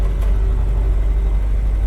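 A UAZ 469 fitted with a Ford Transit 2.5D diesel engine drives along in a low gear, giving a steady mid-pitched engine drone and road rumble with no talk.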